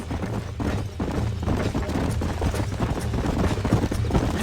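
Herd of horses in the Red Dead Redemption game trotting along, hooves clip-clopping in a busy, continuous rhythm with many overlapping steps, moderately loud and close.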